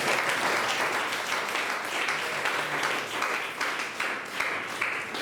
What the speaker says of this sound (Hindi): आइए आप एक बार जोरदार ताली बजाएं।